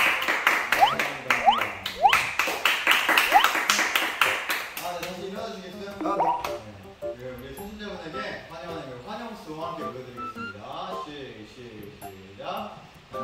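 Congregation clapping in welcome for a newcomer at a Korean church service, a burst of dense clapping over the first few seconds that gives way to a group singing a welcome song.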